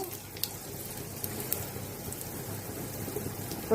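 Whole spices such as bay leaf, dry chilli, cumin, cardamom, cinnamon and clove fry in hot oil in a pan, giving a steady crackling sizzle with small pops throughout, close and moderately quiet.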